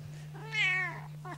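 A very small cat gives one clear, drawn-out meow, followed by a brief second chirp-like call, close by over a steady low electrical hum.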